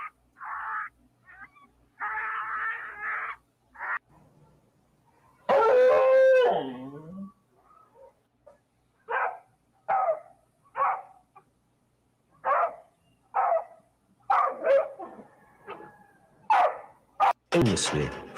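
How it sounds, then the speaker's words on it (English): A dog lets out a long, wavering howl, set among intermittent talking and other animal cries, with a harsh, noisy burst near the end. "Many dogs develop a characteristic continuous howl that is neither barking nor baying."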